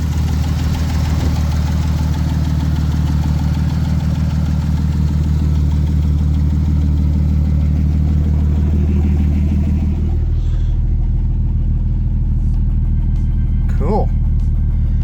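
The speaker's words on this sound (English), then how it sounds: "Now I'm just hearing valve noise up here instead of noise down there." A Jeep 4.0 inline-six in a Comanche pickup idles steadily with a low, even rumble and a light ticking valve noise, close by; about ten seconds in the tone shifts slightly and a brief higher sound cuts through near the end.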